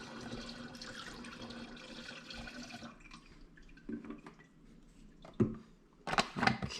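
Pink car screenwash pours and gurgles into a bottle for a few seconds, then quieter trickles and a few sloshing splashes follow, faint and close.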